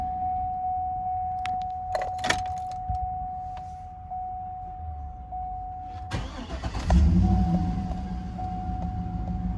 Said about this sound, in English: Do a quick key cycle here.